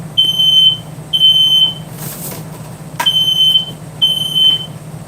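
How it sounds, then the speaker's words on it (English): A household smoke detector sounds four loud, shrill, evenly spaced beeps, each about half a second long, over a low steady background hum. "Oh, that's my smoke detector."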